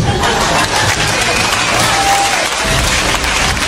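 A live audience at a French-language presentation applauds, with dense, steady clapping filling the room at full loudness for the whole few seconds.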